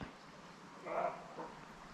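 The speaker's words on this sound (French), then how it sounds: "Là, c'est l'aboiement du chevreuil" A roe deer gives a single faint, distant bark with a fainter echoing second call, heard outdoors near a trout stream against low background hiss.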